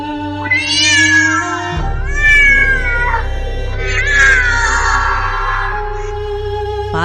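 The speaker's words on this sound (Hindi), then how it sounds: "पास की बिल्ली जोर से फुफकारती है और भाग जाती है।" A cat yowls and caterwauls loudly and close by in long, wavering drawn-out cries over a steady low hum, easing off toward the end.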